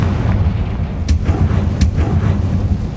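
Two sharp fiery blasts from the Confringo spell in the video game Hogwarts Legacy crack out over a heavy rumbling background, about a second apart, loud and close.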